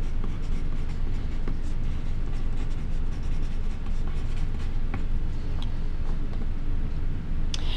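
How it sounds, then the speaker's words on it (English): A pencil scratches across paper as a name is written, a close, continuous rough scraping with small rhythmic strokes throughout. "I'm going to write my name on both."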